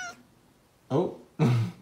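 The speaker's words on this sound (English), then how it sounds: "Oh, look at you, little tiny kitty." A tiny kitten gives two short, clear meows close by after a brief high squeak at the start.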